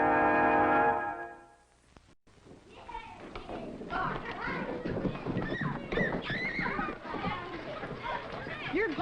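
A wild horse whinnies loudly at the start of a 1950s TV Western scene, then hooves clop and children shout and chatter in a busy outdoor scene.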